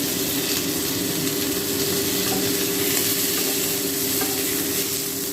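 Boiled potatoes fry with spices in a pan over a low-medium flame, giving a steady, continuous sizzle with faint scraping from stirring, close and unbroken throughout.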